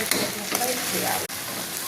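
Vegetable noodle masala frying in a pan with chilli powder, masala powder and coriander powder, a short burst of close, steady sizzling with light stirring scrapes.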